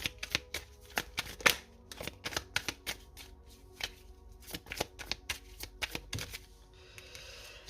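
Oracle cards being shuffled by hand, a quick series of crisp riffling slaps and flutters close to the mic, with no talking.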